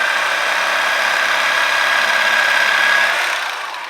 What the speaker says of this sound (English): I have a jigsaw here, and I've removed the guard and guide from it